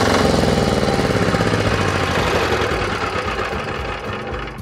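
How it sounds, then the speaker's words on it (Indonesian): A diesel engine on an FTI2010DE mini four-wheel tractor chugs loudly and close with a steady, knocking rhythm that eases slightly in level toward the end. "Untuk mematikan mesin ini cukup tekan tuas gas ini full ke atas."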